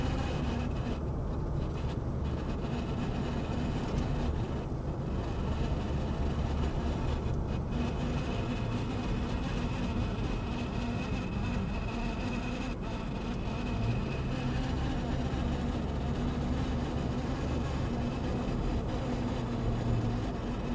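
A 1951 Chevy cruises along on a chilly morning drive, heard from inside as a steady, low engine and road drone that stays even and continuous for the whole stretch, with no voices.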